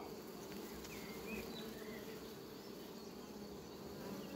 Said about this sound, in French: À moins que ce soit une abeille avec du pollen.